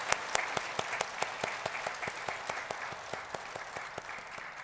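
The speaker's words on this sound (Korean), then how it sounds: "하나님께 영광의 박수 올려드리겠습니다." Congregation applauding during a Sunday church worship service, a steady patter of many hands clapping at moderate volume with no talk, sounding somewhat distant and roomy throughout.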